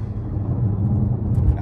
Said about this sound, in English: I don't know if you guys could hear the turbo sound there.